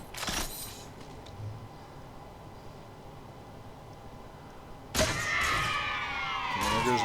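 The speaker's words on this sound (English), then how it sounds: "It's very easy to tell when you head shoot a grunt based on the explosion" Grunt headshot explosions in Halo 4 with the Birthday Party skull turned on: a burst of sound near the start and a loud, sustained crackling blast from five seconds on, with a steady game ambience between them.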